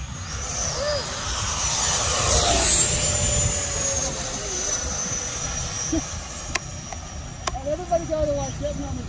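An electric FMS F-16 RC jet model powers up at an outdoor fly-in, its ducted-fan whine rising and holding loud and steady, with faint background sounds and a few sharp clicks near the end.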